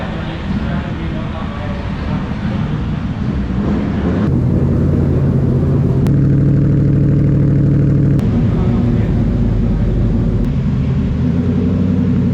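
A 580 hp Daytona GT Coupe race car runs on a track. A loud, steady engine roar fills the scene, rising in pitch and intensity partway through, with a few sharp shifts in tone.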